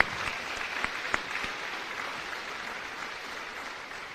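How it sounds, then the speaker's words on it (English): Applause from a seated audience at a military change of command ceremony, a dense wash of clapping at moderate distance with a few louder individual claps near the start, sustained steadily across the whole stretch. "Another round of applause, please."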